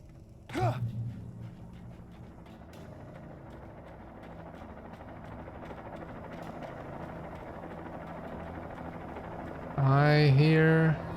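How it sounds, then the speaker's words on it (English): Helicopter flying overhead in the video game Alan Wake Remastered, a steady rotor drone rising under a voice speaking, with a louder close burst near the end. "I hear a chopper."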